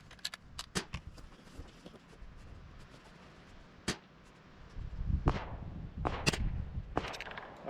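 A Keystone Mini Mosin-Nagant youth rifle fired with CCI Quiet .22 ammunition, producing a few soft, sharp cracks spaced apart among outdoor noise, fairly close, with no talking.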